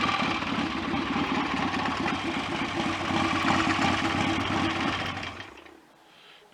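A BSA A65 Street Scrambler engine with freshly balanced carburetors and set timing runs at a steady idle with a close, even throb, then cuts out and falls silent near the end.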